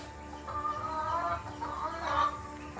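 Buff mottled Cochin bantam and black American Silkie chickens cluck in soft, low, repeated bursts, fairly faint against a steady background hum.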